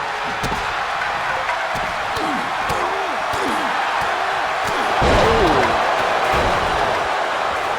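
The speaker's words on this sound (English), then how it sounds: "Angelo slammed the clown right onto the mat" Wrestler body-slammed onto the mat at a live wrestling event, with a heavy thud rising out of a loud, continuous crowd roar while a commentator talks throughout.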